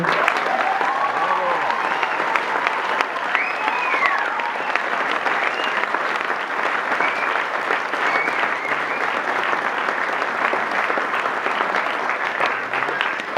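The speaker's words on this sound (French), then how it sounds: "On peut aussi les applaudir." A large crowd applauds at an IBG commencement ceremony, a loud, continuous wash of clapping hands that holds steady for over thirteen seconds, with faint cheers or calls mixed into the roar.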